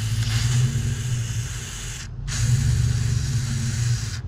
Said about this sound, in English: We're just gonna try and spray it in there.